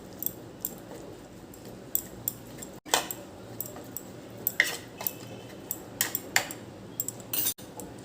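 Rose apple pieces being mixed by hand with spices and tamarind, giving soft scattered clinks and scrapes of a spoon against a bowl close by, with no voices.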